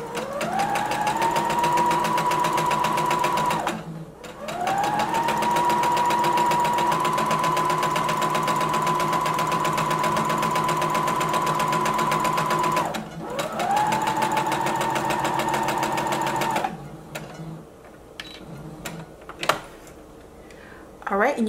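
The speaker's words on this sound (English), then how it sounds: "Go ahead and lower your needle. Begin sewing until you get to the other end." A sewing machine stay-stitches the top edge of a skirt panel at a half-inch seam allowance, running in three long steady whirring bursts with short pauses, followed by light handling noises.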